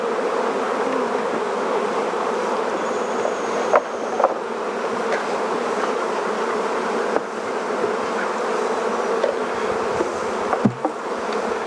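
Dense, continuous droning buzz of many honey bees around a hive, steady and close, with occasional faint knocks and no talking.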